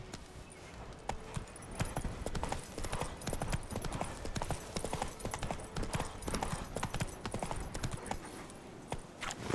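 Galloping horse hooves from the Witcher 3: Wild Hunt video game pound in a fast, steady rhythm that runs loud and close throughout, with no talking over it.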